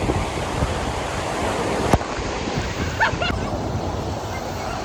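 Ocean waves surging and washing onto Suryalanka Beach, a steady broad roar of surf with a brief sharp knock near the middle and faint distant voices in the background.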